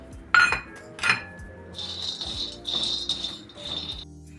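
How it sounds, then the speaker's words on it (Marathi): Peanuts dry roasting in a pan: a couple of sharp metallic clinks, then rattling and scraping as they are moved around the pan, close up with no talking. "पहिले आपल्याला शेंगदाणे भाजून घ्यायचे आहेत"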